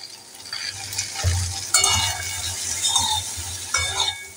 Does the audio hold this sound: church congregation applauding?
no